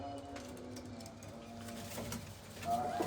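Soft pigeon coos rumble low and steady alongside bird chatter, with a faint mechanical whir in the background.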